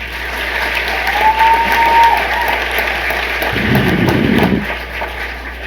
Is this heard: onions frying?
no